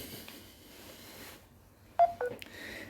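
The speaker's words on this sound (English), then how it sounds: "That's because the phone was beeping at me." Phone beeps over faint background noise, a few short tones close together near the end, like keypad or alert tones during a golf game session.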